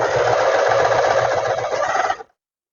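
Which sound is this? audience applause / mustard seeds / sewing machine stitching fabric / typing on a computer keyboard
sewing machine stitching fabric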